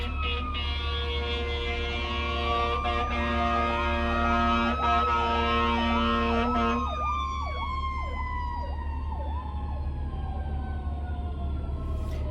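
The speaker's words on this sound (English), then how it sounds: "here comes the fire truck." A loud fire truck siren wails in rising and falling sweeps through a city, shifting to a faster yelp as it passes close by; no talking.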